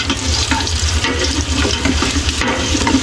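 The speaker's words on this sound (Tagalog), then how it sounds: "hintayin natin mag-golden brown bawang sibuyas" Garlic and onion fry in a pan for lomi, a dense continuous sizzle with stirring scrapes throughout, close and loud with no talking.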